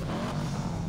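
A 2004 Dodge Neon SRT4 engine in GTA 5, a short steady engine drone, fairly loud and close, held for about a second without speech.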